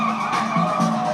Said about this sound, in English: The crowds cheer on drivers skidding their cars in circles